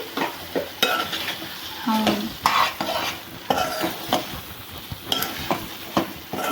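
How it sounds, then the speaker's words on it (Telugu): Chicken pieces frying with masala in a pan, with repeated stirring scrapes and clinks of a spoon against the pan over a steady close sizzle, and no talking. "పచ్చివాసన పోయేలాగా వేపుకోవాలండి చికెన్ని మసాలాని కలిపి"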